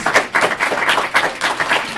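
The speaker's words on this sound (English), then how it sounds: "One more great big round of applause for our winners" An audience applauds the winners at an IEEE EPICS event, with dense, fairly loud clapping that rises and falls in quick waves over two seconds without any voices.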